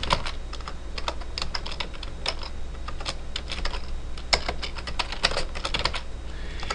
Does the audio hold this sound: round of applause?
no